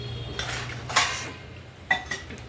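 Dishes and utensils clatter as they are handled and stacked in a home kitchen before washing, with three sharp clinking bursts over a steady low hum.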